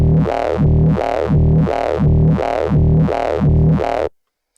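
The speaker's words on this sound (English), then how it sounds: "we can add, you know, more distortion" A heavily distorted, growling neuro bass synth pulses in a steady rhythm, about six swells, loud and gritty, then cuts off abruptly into silence.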